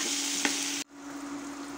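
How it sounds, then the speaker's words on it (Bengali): Potato and eggplant slices frying in hot oil for homemade khichuri, a steady close sizzle that cuts off abruptly partway through, then resumes more softly. "এখানে আলু বেগুন ভাজা করছি"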